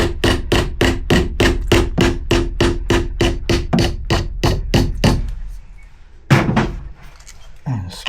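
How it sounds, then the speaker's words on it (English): A hammer taps a plastic wall plug into a hole drilled through a 2x2 batten into the wall, about eighteen quick, evenly spaced close strikes, then a pause and a couple of louder, irregular knocks. "Tap it in with your hammer."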